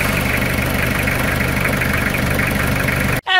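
Toyota Hilux pickup truck engine idling, a close, loud, steady diesel-like rumble with a regular pulsing knock, ending abruptly just before the close.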